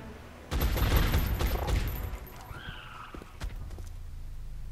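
Gunfire in XCOM Enemy Within: a loud burst of shots opens the moment, fading into rumbling echoes and a brief sweeping whine, then one more thud later, with no talking.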